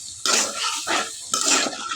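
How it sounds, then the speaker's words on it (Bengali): Water poured into a hot pan of sautéed Malabar spinach with dried shrimp and potato, giving two loud bursts of hissing, splashing sizzle with a short lull between them. "অ্যাড করে দিচ্ছি পানি"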